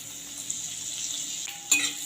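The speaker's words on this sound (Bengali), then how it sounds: "রসুনটাকে একটা ভেজে নেব" Chopped garlic, added with a dried red chilli, fries in oil in a wok with a soft steady sizzle and a few light utensil clinks toward the end.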